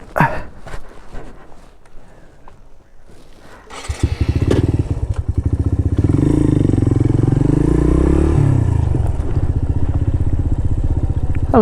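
A Suzuki VanVan motorcycle at Lizard Point starts after some handling clatter and settles into a loud, steady single-cylinder idle close by, with its revs rising and falling briefly.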